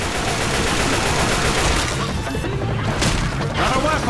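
Dense, continuous gunfire from the Left 4 Dead 2 zombie shooter, a steady loud barrage of overlapping shots and impacts in a versus match, with players talking over it.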